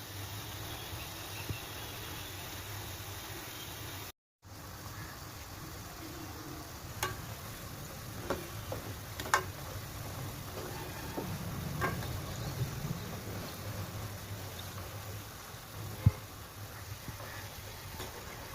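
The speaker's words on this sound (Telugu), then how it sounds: "దీనిని మీడియం ఫ్లేమ్లో క్రిస్పీగా వచ్చేంత వరకు వేయించుకోవాలి" Cashew pakodi deep-frying in oil over a medium flame, a steady close sizzle and hiss that runs throughout, with a few faint clicks and taps.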